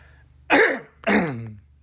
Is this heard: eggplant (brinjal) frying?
no